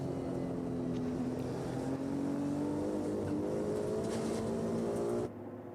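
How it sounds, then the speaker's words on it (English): A Ferrari 296 Evo race car drones past during a 12-hour endurance race at the Nürburgring, a steady moderately distant engine note rising slightly in pitch before cutting off abruptly near the end. "Different noise to enjoy from the Ferrari 296 Evo."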